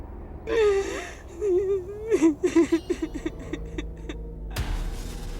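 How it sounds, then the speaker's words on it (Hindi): A child's crying used as a horror-story sound effect: whimpering sobs and gasping, halting cries in short broken bursts, ending in a sudden sharp hit and a dark lingering wash. "तभी किसी बच्चे के रोने की आवाज सुनाई देने लगी।"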